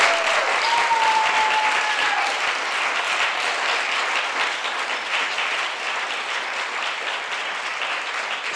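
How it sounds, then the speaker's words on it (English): Sustained audience applause for keynote speaker Alicia Garza, a dense, steady wash of many hands clapping indoors at fairly loud level, with no talk over it. "If you would please give a round of applause for Alicia Garza."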